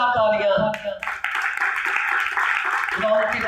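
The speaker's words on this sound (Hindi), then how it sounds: "जोरदार तालियां" Loud applause and clapping from a church congregation during a Hindi-language sermon on Jesus, a dense sustained wash of hands that swells and holds for a few seconds, with tonal sounds from the preacher's side at the start and end.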